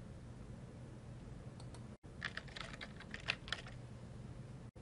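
Quick bursts of keystrokes on a computer keyboard while search words are typed, a short pause, then a busier run of clicking, fairly quiet and close, with no voices.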